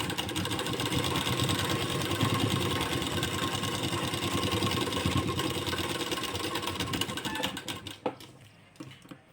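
A sewing machine runs continuously while stitching a blouse seam, a dense, steady mechanical whir that holds for most of the stretch before slowing and stopping near the end.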